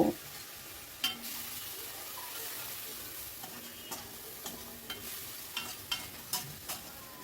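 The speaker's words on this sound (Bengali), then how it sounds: "সামান্য একটু জল দিয়ে মশলাটাকে ভালো করে কষিয়ে নেব।" Spice paste of cumin and chilli powder with a splash of water being stirred and sautéed in a pan, giving a soft steady sizzle broken by occasional scraping clicks of the spoon, fairly quiet with no talking.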